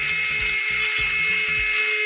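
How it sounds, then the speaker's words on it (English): An electric spice grinder whirs steadily through about two teaspoons of pink peppercorns, a continuous close, loud buzzing hum with gritty rattling pulses as the peppercorns are broken down, with no talking. "We're going to grind that up in the spice grinder"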